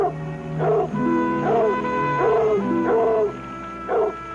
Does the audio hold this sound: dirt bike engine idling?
no